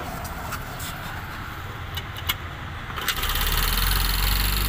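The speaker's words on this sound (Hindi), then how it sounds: "गाड़ी स्टार्ट हो गई है, गाड़ी बंद कर रहे हैं, देख सकते हैं आप लोग।" A Honda Activa scooter engine cranks with a few short clicks, then catches and settles into a steady, close idle hum for the last couple of seconds.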